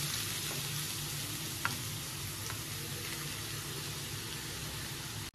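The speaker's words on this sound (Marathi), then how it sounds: "तूप आपलं चांगलं गरम झालं तर मी याच्यात किसलेला गाजर टाकते." Grated carrots fry in hot ghee for gajar halwa, making a continuous close hiss and sizzle that holds steady, with a couple of faint clicks from the pan.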